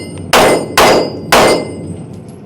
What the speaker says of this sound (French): nous devons taper les 4 plus gros gongs blancs et terminer par la plate bleue